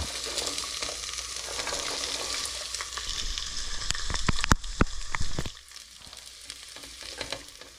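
Garlic fries in oil in a pot as the base for a veal stew, a soft steady sizzle with a burst of louder crackles and spoon clatter midway before settling back down.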